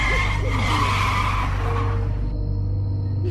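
A fast-moving car brakes suddenly, tires skidding and squealing loudly for about two seconds over a low engine rumble before the noise drops away into a faint tone.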